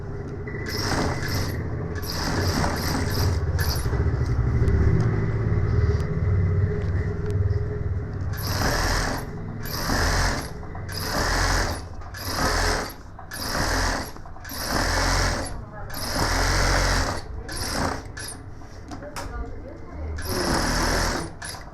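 A tailor's sewing machine stitches a gents suit in rapid mechanical bursts with short pauses between runs, close and steady, with voices at times.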